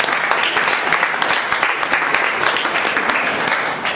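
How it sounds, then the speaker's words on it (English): A crowd's round of applause at a meeting, many hands clapping in a lively, crackling burst that holds steady and close throughout, a few voices mixed in. "Big round of applause for both of them"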